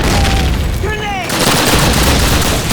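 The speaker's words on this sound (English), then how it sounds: "Grenade!" A grenade blast in the Call of Duty battle at Red Square, loud and close, amid constant battlefield noise. A whistling sweep comes just before it, and dense booming gunfire continues afterward.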